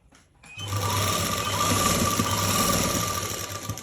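A sewing machine stitches lace onto fabric, its motor whirring steadily and loudly for several seconds after a brief quiet start, with a constant hum and rapid needle chatter and no talking.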